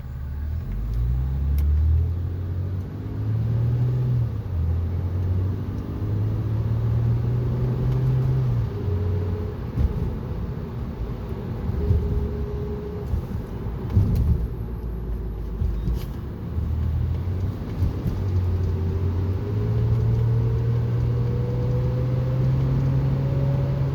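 A 2006 Honda Accord V6 heard from inside while driving, with steady road rumble and engine drone and a faint rising whine that climbs and falls with speed, continuous throughout.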